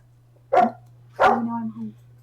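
A man imitates a dog, voicing two short woof-like barks about half a second apart, the second drawn out into a growly tail, close and clear over a low steady hum.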